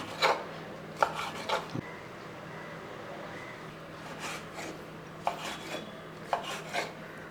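Knife strokes through squid on a cutting board, a handful of sharp scraping chops in short bursts with quiet gaps between, close and fairly faint.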